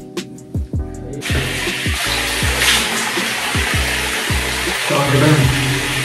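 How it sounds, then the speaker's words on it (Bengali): Cold water poured over someone bathing in chilly weather, with the water heater not working: a sudden loud, steady rush of splashing water that starts after a brief quieter moment and continues throughout with repeated low thumps. "এই ঠান্ডাতেও আমি স্নান করছি, তারপর ঠান্ডায় জলে"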